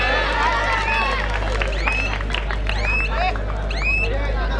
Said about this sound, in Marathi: टाळ्या मात्र निश्चितपणे या ठिकाणी पडत आहेत